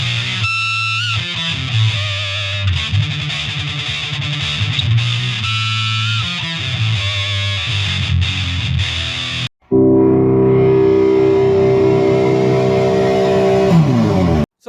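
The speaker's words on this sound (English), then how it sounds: "we're going to do a review and demo of the FX-56 American Metal by DOD." An electric guitar plays through a DOD FX-56 American Metal distortion pedal, first as heavily distorted rhythmic riffing, then after a brief cut as a sustained saturated chord ringing out loud and alone.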